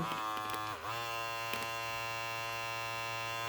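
A cordless Philips HC5650 hair trimmer runs in turbo mode with a close, steady electric buzz, briefly dipping in pitch near the start before holding a constant drone.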